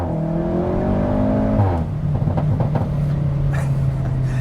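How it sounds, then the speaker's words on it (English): Cabin view of a VW Golf R MK 7.5 with a muffler-delete exhaust: a loud, steady engine drone with one rev shift partway through, booming and continuous without speech. "here's some footage inside the car with the exhaust on"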